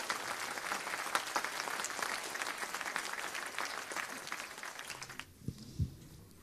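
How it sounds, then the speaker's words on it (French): Audience applauding after a talk on Zelensky and Ukraine, a dense, steady burst of many hands clapping that stops abruptly near the end, leaving a few faint knocks and room noise. "Et avant cela, on va vous applaudir"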